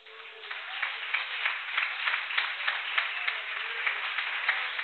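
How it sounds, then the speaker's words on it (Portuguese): Steady, muffled applause fills a church, many hands clapping together in an even rhythm with faint emphasised beats, distant and thin throughout. "Aplauda o Senhor nessa noite."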